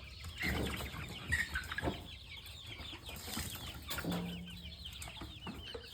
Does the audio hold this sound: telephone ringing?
no